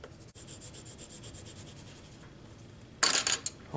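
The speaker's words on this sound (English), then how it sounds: "you can go through with a brown colored pencil or a black colored pencil and add shadows underneath things" Brown or black colored pencil scratches over paper while shading figure drawings, soft rhythmic back-and-forth strokes that are close and quiet, ending in a brief, sharper burst of rubbing.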